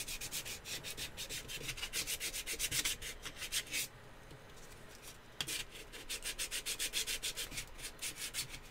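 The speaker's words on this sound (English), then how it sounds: "If I can get the thick layer off of paint, then it shouldn't dull the rest of my sandpaper too badly" Sandpaper is rubbed by hand over wood to strip a thick layer of paint. The strokes are quick, rhythmic and scratchy, close by, with a short pause partway before the steady back-and-forth resumes.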